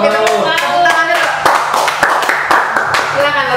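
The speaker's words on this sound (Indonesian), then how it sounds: "Kita tepuk tangan dulu." Audience clapping at an Indonesian variety show before a singer performs, a run of sharp overlapping claps close to the mic, mixed with music and voices talking over it.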